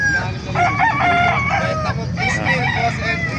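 A rooster crows loudly and close at a market, its long drawn-out call rising and falling, with other chickens clucking and farmyard noise around it.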